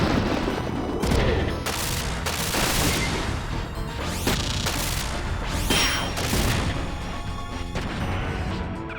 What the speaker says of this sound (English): Yeah, just pump a shotgun into him.